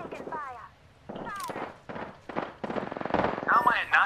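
Incoming gunfire hitting the player in the battle royale shooter Apex Legends, a rapid choppy series of automatic shots mixed with fast impact and shield sounds, fairly close and loud, with a voice talking over parts of it.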